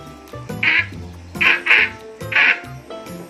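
A person imitates a duck's quack in a readers theater performance, with three bursts of nasal quacking spaced about a second apart, close and clear, over a faint background.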